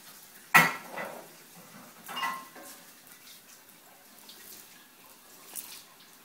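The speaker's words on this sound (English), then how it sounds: "You're doing such a good job with the dishes." A child washing dishes at a sink makes a sharp clink of dishware followed by softer scattered clatter and light water sounds, fairly quiet and without talk.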